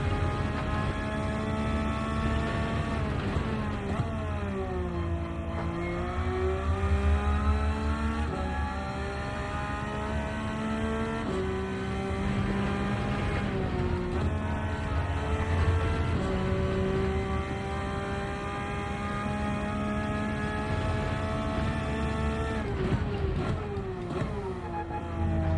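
Race car engines in Gran Turismo 7 drone steadily and loudly throughout, with repeated rising and falling pitch sweeps as the cars rev and shift, and no talking over it.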